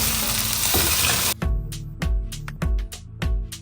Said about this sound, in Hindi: अब हम इसे भी हल्का सा सब चीज़ों को सोते करेंगे।